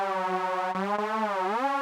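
A Vital synth oscillator pitched down one octave with seven-voice unison and 20 detune, holding one bright buzzy sustained note that wavers slightly and then bends upward near the end, steady and alone.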